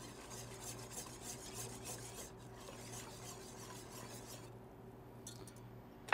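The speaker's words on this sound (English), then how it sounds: "then we're going to add the meat back into the gravy" Sausage meat being stirred back into a pan of simmering gravy, giving a steady close scraping and stirring with a faint sizzle underneath and a light utensil clink at the very end.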